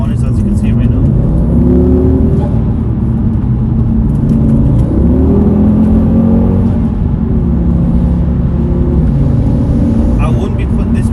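A car rides on Goodyear Eagle F1 Supersport tyres while the driver eases on the throttle through corners, its engine droning loud and close under a steady road rumble as someone talks over it throughout.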